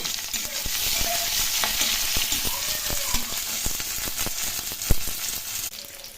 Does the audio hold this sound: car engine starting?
no